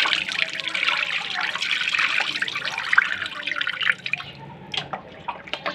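Food for Bisaya kinilaw being rinsed in water, with close splashing and trickling that runs steadily for about four seconds, then breaks into a few separate drips and sloshes.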